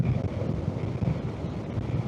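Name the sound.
wind noise while riding with helmet visor open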